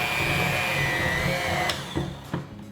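Electric stand mixer on low speed working flour into chocolate cookie dough, a steady close motor whine that cuts off, followed by a couple of knocks.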